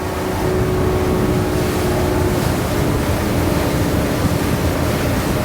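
A 2024 Seahunt Gamefish 28 motorboat runs fast with the wind at around 3,400 RPM, giving a loud, continuous roar of engine, hull slap and rushing water and wind with no break.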